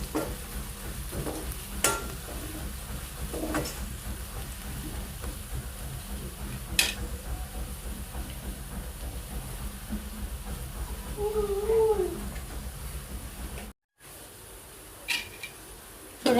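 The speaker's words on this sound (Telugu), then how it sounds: "ఇది ఒక 2 నిమిషాలు వేగనిద్దామండి." Ivy gourd curry base frying in a pan, a steady low sizzle with occasional stirring clatter and brief scrapes, fairly quiet throughout with a short break near the end.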